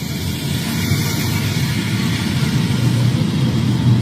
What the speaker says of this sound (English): Just cars going off.